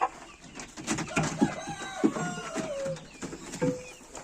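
A rooster clucks and calls close by, a run of short throaty notes rising into drawn-out crowing, with no talking.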